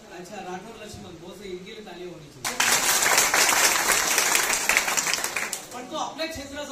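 Speech gives way to a sudden burst of audience applause that holds for several seconds, then fades as talking resumes.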